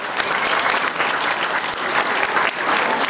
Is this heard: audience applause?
yes